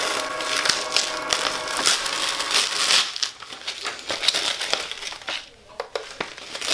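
Red vinyl being peeled and weeded from a Cricut-cut design, with close, continuous crinkling and crackling of the sheet and small sharp ticks, while a voice talks over it.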